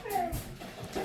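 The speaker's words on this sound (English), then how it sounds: "my dogs are whining." Dogs whine in high, wavering tones, somewhat distant in the background, with a quiet room hum underneath.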